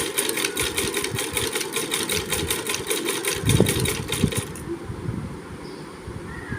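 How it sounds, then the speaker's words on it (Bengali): A sewing machine stitches steadily, its fast, even mechanical clatter running close and fairly loud for about four seconds before it stops and leaves only a faint room hum. "মা সেলাই করছে"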